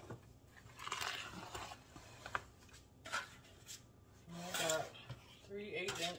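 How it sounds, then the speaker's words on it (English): A wooden spoon works through chocolate cake batter in a bowl, giving irregular scraping, knocking and rubbing strokes with brief gaps between them, close and fairly clear. "I just grabbed a wooden spoon real quick. Finish mixing it."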